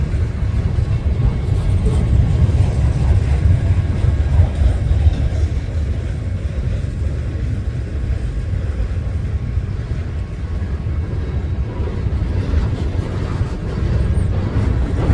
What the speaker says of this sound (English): The train on the backside track just cleared the crossing. Now it's just the second train that's on the middle track.